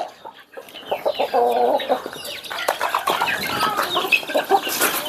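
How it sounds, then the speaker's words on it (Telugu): Grown chickens eating feed cluck and chatter continuously, several birds close by, with busy overlapping calls and pecking activity filling the whole stretch. "ఇప్పుడు మన పెద్ద కోళ్ళకి అయితే వేద్దాం, ఎంత నీట్గా తింటాయో"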